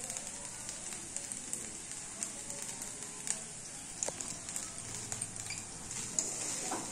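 Fried rice with salt, sugar and scrambled egg being stirred in a pan, a faint continuous sizzle with scattered light clicks and scrapes of a spoon, no talking.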